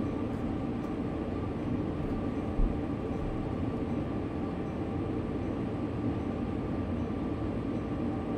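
A freight train rolls along Sherman Hill in Train Sim World 2, a constant loud rumble and wheel roar with one brief clunk partway through.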